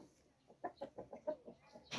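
A chicken clucks quietly in a quick series of short, close calls on a farm, with a faint background hiss.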